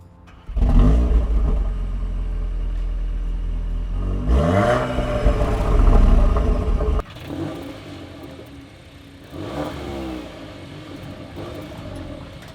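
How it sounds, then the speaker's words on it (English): An Audi S3 revs its engine repeatedly, a deep, throaty, aggressive exhaust note rising and falling in several loud swells, heard close with no talking. "the Audi S3 has a bit more throaty, more aggressive, deeper noise in comparison to the Golf R"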